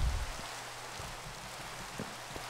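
Rain falls in SkyBlock Minecraft, a steady soft hiss of drops with occasional faint taps, continuous throughout.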